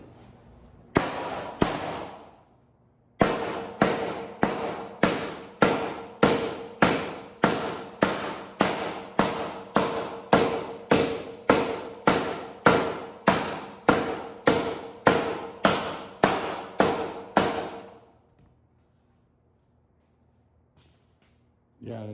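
A custom metal shaping hammer fitted with a bigger bearing pounds sheet metal. A couple of opening blows are followed by a fast, even run of about twenty sharp, ringing strikes, close and loud, before it stops.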